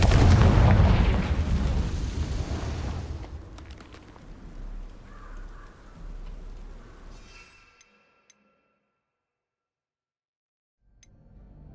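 A Confringo blast spell erupts in Hogwarts Legacy: a loud, broad explosive boom opens, then rumbling debris and echoes fade over several seconds into near silence, with a faint rustle returning at the end.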